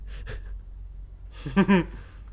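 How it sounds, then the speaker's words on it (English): Purdy, a character in the video game Ikenfell, breathes heavily in two short quiet gasps, then a louder, strained run of breathy exhalations close by, with no talking. "Purdy is breathing heavily."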